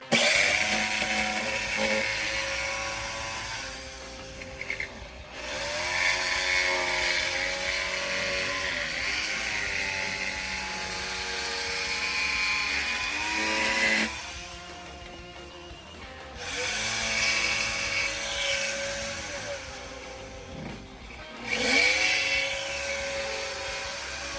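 A power tool cutting a letter shape out of wood, a loud continuous whine that drops and resumes in several long bursts with slight pitch changes as the blade works the board, with no voice.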